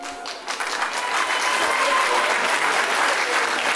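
Loud audience applause at a French comedy festival, Festival Zéro Polémik, as the crowd answers a comedian's show-of-hands question; the clapping swells in within half a second and stays dense and even.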